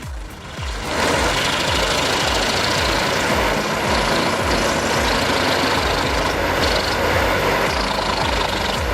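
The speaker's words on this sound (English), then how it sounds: "this mobile wood chipper handles logs up to 80 centimeters in diameter with impressive consistency" A mobile wood chipper takes in logs up to 80 centimeters across, giving a loud, continuous, dense grinding roar with repeated low thuds and knocks of wood being chipped.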